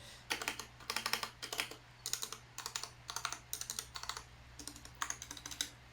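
Typing on an RK860 mechanical keyboard with unlubed stabilizers, a steady run of clacking keystroke bursts in quick rhythmic clusters, close and fairly quiet over a low constant hum.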